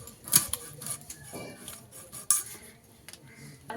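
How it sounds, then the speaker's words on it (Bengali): Knife cutting through whole fish on a kitchen surface, with a few sharp scraping and clinking strokes of blade against board and metal, close and fairly quiet, no talking. "মাছটাকে প্রথমে কেটে নেব"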